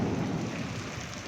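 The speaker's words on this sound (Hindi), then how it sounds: "बहुत तेज़ बारिश है और आंधी बहुत तेज़ चल रही है" Heavy rain and strong wind batter down during a storm in Saudi Arabia, a dense, steady roar of downpour with deep rumbling underneath, close and continuous with no voices.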